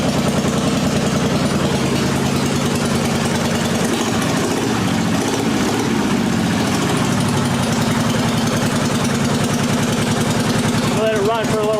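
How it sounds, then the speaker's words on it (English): A Harley-Davidson Heritage Softail engine idles steadily and loudly up close after a crank sensor replacement, a low rhythmic chugging that holds its pace throughout. "She's idling. She is idling and she is running."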